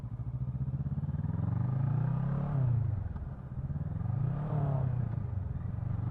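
A motorcycle engine thrums steadily as the bike rides through a roundabout, its low pitch rising and falling twice as the throttle eases and opens again, close and continuous with no voices.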